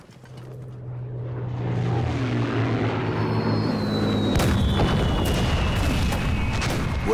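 Wartime aircraft roar overhead in a war film set during the anti-Japanese war, a broad rumbling swell that grows and holds loud, with a thin descending whine passing through.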